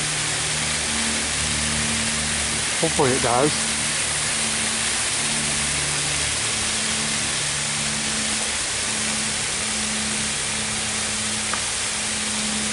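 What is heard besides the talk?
garden shower water pouring onto a jackfruit tree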